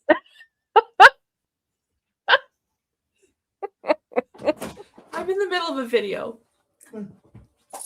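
A dog lets out short, sharp whimpering yelps in scattered bursts up close, then a person speaks briefly before a few more faint yelps.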